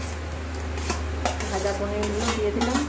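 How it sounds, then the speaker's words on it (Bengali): Fried paneer goes into a pan of hot water and gravy, followed by a soft steady simmer and repeated close scrapes and clinks of a spoon stirring against the metal pan. "ভাজা পনিরগুলো দিয়ে দিলাম।"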